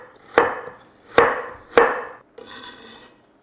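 A small carrot is chopped on a cutting board for spicy Korean rice cakes, giving three sharp, evenly spaced knife thuds close by, followed by a softer scraping sound as the pieces are gathered.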